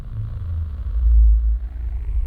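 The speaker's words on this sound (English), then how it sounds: "And now it really rumbles" Deep, heavy low-end rumble swelling in the middle and fading slightly, a boosted bass throb with little else above it.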